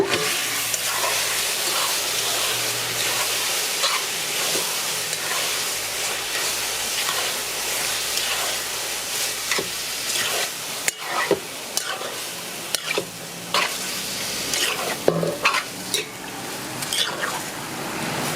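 Seasoned, marinated pork frying in browned sugar in a pot for a Trinbagonian pork pelau, a steady close sizzle and hiss with scattered crackles and pops, louder spits toward the end.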